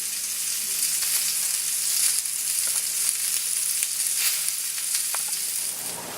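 Steak and vegetable kebabs sizzling on a grill, a loud, steady hiss with faint crackles and pops throughout, close up and without any talking.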